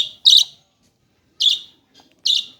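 Budgie chicks at a Bangalore wholesale bird seller give three sharp, high chirps with short pauses between them, close and clear against an otherwise quiet background.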